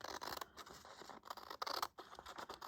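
Scissors snipping through paper envelopes at a craft table, a quiet, close series of crisp cuts and scraping paper sounds in an irregular rhythm.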